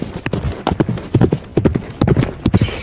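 Steady clip-clop of horse hooves, a quick rhythmic series of close hoofbeats with no talking.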